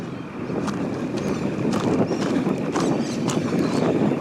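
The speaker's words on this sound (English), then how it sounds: "the sound you're hearing there is mole crickets." Mole crickets call outdoors at night at the start of the wet season, a dense, continuous buzzing chorus with some faint clicks and light rustling over it, steady and moderately loud.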